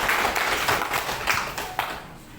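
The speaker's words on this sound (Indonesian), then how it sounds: "Iya, tepuk tangan." Students clap together in a school classroom after a group presentation. The clapping is fairly loud and close, a dense patter with a few sharper claps standing out, and it thins out toward the end.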